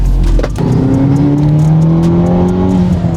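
A 2023 Hyundai Elantra N engine with a blow-off valve drones and rises in pitch as it accelerates, loud and steady, heard from inside the cabin.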